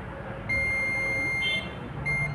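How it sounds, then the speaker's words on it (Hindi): A digital multimeter set to diode mode beeps while testing diodes during a home theatre repair: a thin, steady high-pitched electronic tone that briefly cuts and resumes over a low background hum, with no talking. "दोनों तरफ से बीप आ रही है"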